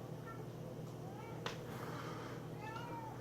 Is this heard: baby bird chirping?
no